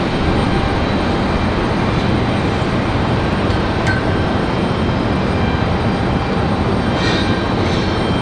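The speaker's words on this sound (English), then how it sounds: "Got an American 737 slide now for their departure." Loud, sustained jet engine roar from an American Airlines Boeing 737 departing Raleigh Durham airport, a dense, steady rumble with no break and no voices.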